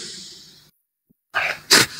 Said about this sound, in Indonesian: pasti bersin